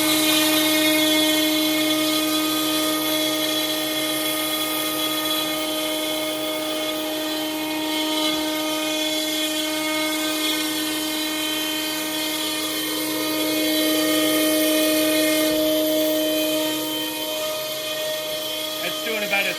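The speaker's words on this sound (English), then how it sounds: "That's doing about a 3/16 inch cut. So I'll do multiple passes on these cuts." Wood router fitted with a 3/8 inch end mill cutter cutting a shallow 3/16 inch pass in wood, the vacuum off; a steady, loud high-pitched whine with strong tonal hum holds throughout the stretch without talk.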